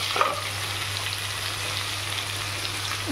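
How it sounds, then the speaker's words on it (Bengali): Potatoes with turmeric frying in hot oil give a steady close sizzle and hiss, with a faint clink near the start and a low hum underneath, no voices. "আলুগুলো একটু লাল লাল করে ভেজে নেব। একটু হলুদ ছড়িয়ে দিলাম আলুর মধ্যে"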